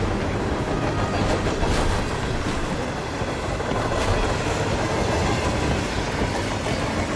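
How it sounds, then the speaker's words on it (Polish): Train ambience from the train level of the video game Hitman 3: a loud, constant rolling rumble with faint rhythmic clickety-clack of wheels over rail joints, steady throughout and without any voices. "jesteśmy w pociągu, tak? To etap w pociągu."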